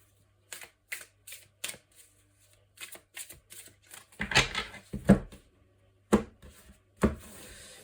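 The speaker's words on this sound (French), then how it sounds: "Alors pareil, je vais faire un tirage en 6 cartes, 9 cartes, pardon." Oracle cards being shuffled by hand for a card reading, a run of soft papery riffles and slaps in irregular bursts, close and fairly quiet, with no talking.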